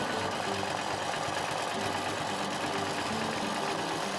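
A sewing machine stitching a quilt with a starburst design runs steadily, giving a continuous mechanical whir with a fast regular rhythm at moderate volume and no talking.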